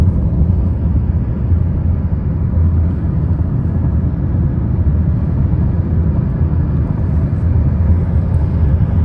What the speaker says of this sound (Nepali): यो गाडी यतिखेर 100 को स्पिडमा दौडिरहेको छ।